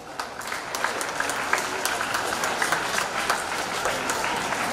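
At a school Independence Day celebration, an audience applauds the donors with a dense, sustained round of clapping from many hands, steady and fairly loud throughout.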